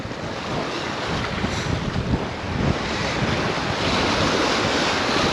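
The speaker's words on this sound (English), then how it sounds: "we got that south wind coming at us right now. Super windy." Strong south wind blowing across Clear Lake, a dense, continuous broadband roar with gusty buffeting against the microphone and a wash of choppy water underneath, steady and loud throughout.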